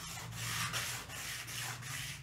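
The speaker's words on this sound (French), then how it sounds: "n'hésitez pas surtout à déplacer votre mouvement, tout simplement pour ne pas user l'abrasif au même endroit" A piece being rubbed back and forth by hand against an abrasive sheet, producing close, rhythmic scraping strokes of even loudness, about three per second, with a low hum underneath and no talking.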